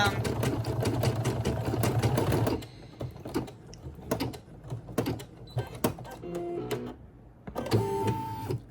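A Brother SE1900 embroidery machine stitches an applique onto a bag, its rapid mechanical chatter loud and steady for a few seconds, then dropping to intermittent clicks and short stitching bursts before a final run.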